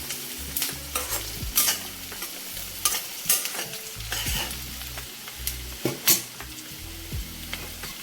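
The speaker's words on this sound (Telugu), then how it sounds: "కరివేపాకు, ఉల్లిపాయలు కొంచెం బాగా వేగాలండి." Curry leaves and onions fry in a pan for a gongura curry, a close, steady sizzle broken by repeated spatula scrapes and light clinks against the pan, with no talking.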